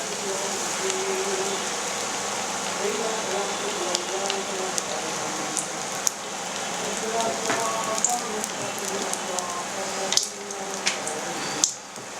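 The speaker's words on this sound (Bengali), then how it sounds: "এটাকে ডুবো তেলে ভাজতে হবে তারপর এটাকে ভাজতে হবে" Battered fish deep-frying for crispy fried fish, a dense crackling bubble of oil throughout with a few sharp pops and clinks near the end.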